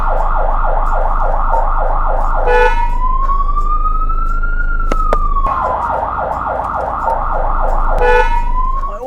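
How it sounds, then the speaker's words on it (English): A fire truck siren wails, sweeping up and down in steady repeating cycles, with a faster yelping pattern alternating with long slow wails, loud and close over engine rumble. "I always love hearing the sirens and seeing the big fire truck coming down the street."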